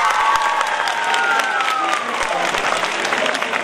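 A live comedy show audience applauds loudly and steadily, dense clapping filling the hall, with some cheering and crowd voices mixed in.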